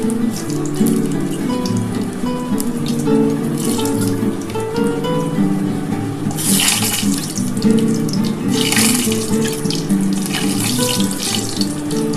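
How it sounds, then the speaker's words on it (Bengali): Nigella seeds and a dried chili sizzle in hot oil while tempering for a beetroot mash, giving a loud, close, continuous hiss with brief surges of crackle. "আমি কিন্তু অল্প করে কালো জিরে ফোড়ন দিলাম, একটা শুকনো লঙ্কা দিয়ে দিচ্ছি"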